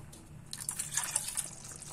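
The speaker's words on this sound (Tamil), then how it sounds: "இந்த ஸ்டேஜ்ல உங்களுக்கு எவ்வளவு குழம்பு வேணுமோ அவ்வளவு தண்ணி ஊத்திக்கோங்க." Water is poured into a simmering tamarind curry in a pot, giving a short, soft splashing pour with drips over a quiet background, with no talking.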